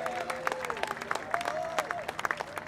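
Applause from a crowd at a Toronto motor race trophy ceremony for the third-place driver, light scattered clapping at a distance with a tonal whine drifting underneath.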